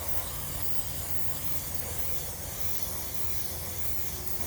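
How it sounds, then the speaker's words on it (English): Chain cleaner is sprayed from an aerosol can onto a motorcycle chain, making a steady, continuous hiss that holds close and even throughout without pause. "I'll just spray some on here"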